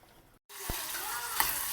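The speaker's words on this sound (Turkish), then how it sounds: "İçi için soğanlarımı kavuruyorum." Onions for a spinach gözleme filling sautéing in a pan start after a brief silence, a steady close sizzle with a couple of sharp utensil knocks, no voices.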